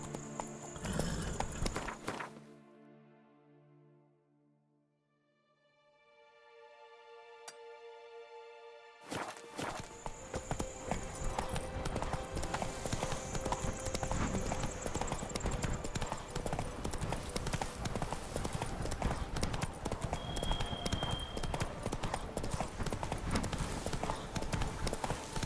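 Roach, the horse in The Witcher 3, gallops with rapid, loud hoofbeats that keep pounding for most of the stretch after an opening burst and a quiet musical pause, with a faint whinny possible.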